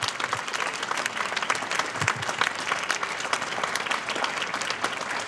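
Audience applauding at an outdoor wind band concert at a castle, a dense, steady burst of many hands clapping close by, sustained evenly with no speech.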